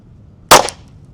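A single sharp Glock pistol shot cracks loudly and close by, followed by a short decaying echo, with quiet background before and after.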